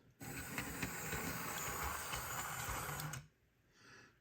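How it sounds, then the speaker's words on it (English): A model train runs along a shuttle track layout, a steady whirring hiss of motor and wheels that holds for about three seconds and then cuts off abruptly, leaving quiet. "Let's send the train back and see what happens."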